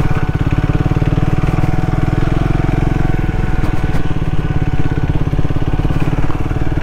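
A Triumph Speed 400 motorcycle engine thrums with a steady, rapid pulse while riding off-road, loud and close throughout at an even pace.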